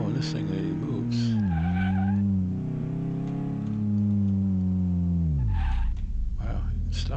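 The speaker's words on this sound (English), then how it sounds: "Wow, it stops. Brakes are pretty good." A car braking to a stop in the Car Mechanic Simulator 2018 video game: a loud, close engine note sweeps down over several seconds with a tire squeal, then drops away into a short rumble.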